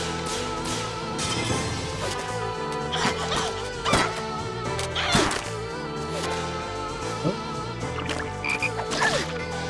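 Deep, repeated croaking from the Frog God boss in the Shadow Hearts role-playing game, sounding continuously over layered game music with several sharper hits and crashes of battle effects.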